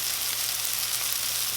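Tomatoes, garlic and parsley frying in olive oil in a pan, giving a loud, continuous sizzle with no break and no talking.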